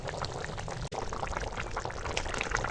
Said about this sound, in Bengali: মাংসটা এখন ফুটছে এবার এই কাঠের জালেই সিদ্ধ করবো